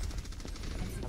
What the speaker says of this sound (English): They have a Torb turret.